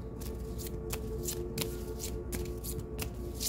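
Tarot cards being shuffled by hand, a steady run of crisp riffling bursts and soft card slaps repeating about every half second, close and fairly loud over a low room hum, with no talking.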